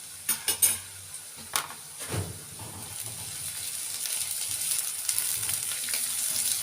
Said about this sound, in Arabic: اول ما البصله تبدا تصفر معايا كده هنزل بحته تومه اهي